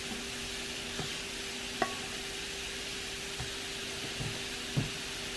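Chopped banana fries on a Dash 8-inch electric griddle with a steady, fairly quiet sizzle and hiss, a few soft taps and clicks of a utensil, and no voices.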